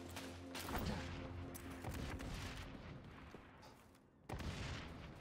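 Gunfire and blasts rattle through a fast XDefiant firefight, with rapid shots and booms packed closely together and a sharp burst near the end, like a grenade going off.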